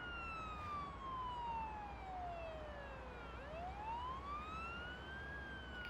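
An ambulance siren wails on a patient call, a single slow, faint, distant tone that falls and rises over a steady rumble of road noise.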